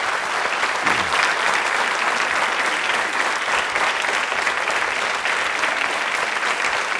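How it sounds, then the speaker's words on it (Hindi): Sustained applause from a quiz-show studio audience of college students in a Jaipur studio, a dense, steady wash of clapping hands at even loudness throughout, with no talking over it. "तो पहले तो ख्वाजा के सम्मान में तालियां ज़ोरों से बजाइए आप।"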